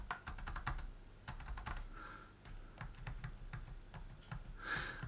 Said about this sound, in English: Let's just try typing something.